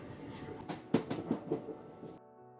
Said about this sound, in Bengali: এবার বড়ভূমে ঢুকবে ট্রেন